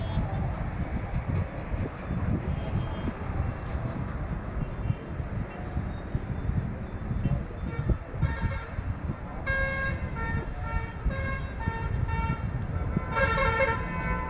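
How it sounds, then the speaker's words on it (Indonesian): Vehicles pass along a busy street in Chandigarh, India, under a constant low traffic rumble, with several horn toots clustered in the second half, some close and sharp, others farther off. "bunyi kendaraan yang lewat"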